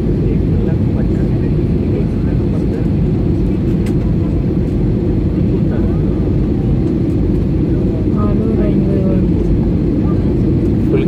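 An airplane lands at Chennai airport, its loud continuous roar heard up close from inside the aircraft, steady throughout with faint voices underneath.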